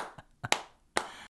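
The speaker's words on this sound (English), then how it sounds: "Come on, clap." A few scattered hand claps, sparse and uneven, sounding like a small audience halfheartedly applauding, short sharp bursts separated by gaps.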